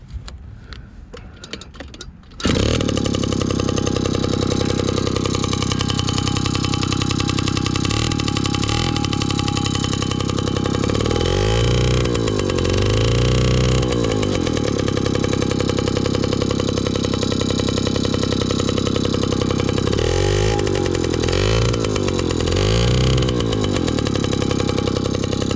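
An unrestored 1983 Honda QR50 two-stroke engine, started from dead cold, catches after a brief cranking rattle and runs continuously with a loud, buzzing idle broken by a few quick revs.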